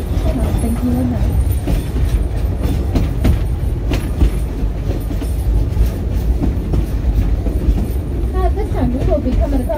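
The Frisco steam train runs at Silver Dollar City at Christmas. A constant loud rumble of the moving cars and rhythmic wheel clatter fill the ride, with people talking over it throughout.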